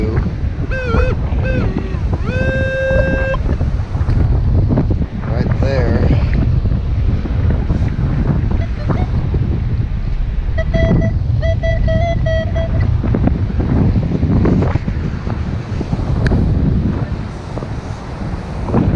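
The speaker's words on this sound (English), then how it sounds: "I hope you can hear me over all this wind blowing." Strong wind blowing on a beach, roaring and buffeting the microphone steadily and loudly throughout, with faint tonal beeps now and then.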